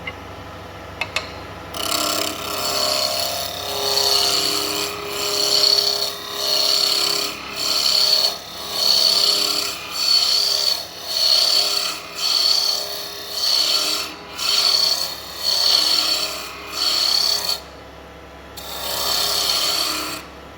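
Wood lathe turning a Beaufort Ink Zephyr pen blank with a spindle roughing gouge, taking light cuts: a steady spinning hiss broken into a regular series of raspy cutting strokes, close and clear.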